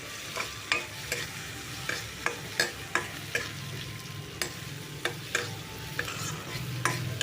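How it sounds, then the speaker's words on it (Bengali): Ginger paste fries in a pan, a low steady sizzle broken by regular scraping stirs of a spatula, about two per second, close and fairly quiet. "আদাটাও ভাজা হয়ে গেছে"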